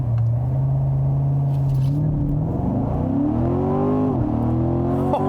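A 2018 Chevrolet Corvette Grand Sport launches hard, its V8 engine held at a steady rev before climbing through rising tones, dropping briefly at a gear change, then pulling again, loud and close inside the car.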